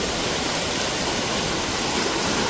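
Floodwater from heavy rain rushes past Patoli bridge in Furus village near Khed, Dapoli, as a loud, dense, unbroken roar of turbulent water, close by and alone.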